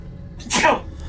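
A single sharp sneeze blasts into a close microphone during a Fallout: New Vegas gaming session, a short loud burst lasting about half a second against quiet room hum.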